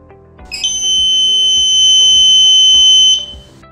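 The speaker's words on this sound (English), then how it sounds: "For invalid code, buzzer will be on." A loud, piercing electronic buzzer from an Arduino RFID door lock sounds for about two and a half seconds after an invalid card, a steady shrill tone that starts and stops abruptly.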